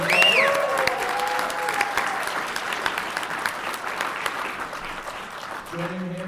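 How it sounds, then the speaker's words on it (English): A convention panel audience applauds steadily and loudly for a comic creator, a dense continuous wash of claps from a large crowd with a few voices and whoops mixed in, fading slightly toward the end as a voice returns. "Give him a big round of applause."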